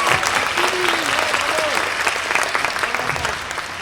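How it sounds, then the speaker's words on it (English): Audience applause at a Toulouse gaming-show actor panel, a full, steady burst of clapping from a large crowd that fades slightly toward the end, with a few voices and whoops mixed in. "Applaudissements s'il vous plaît pour Midi Alcock."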